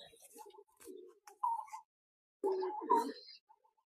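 A black-necked male army pigeon coos in short, soft bursts close by, with a pause midway before a louder final stretch of cooing.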